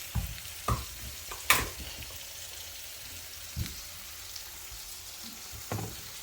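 Curry and onion frying in a pan for a Jamaican curry shrimp dish, a soft steady sizzle with a few louder clinks and scrapes of stirring scattered through, no talking.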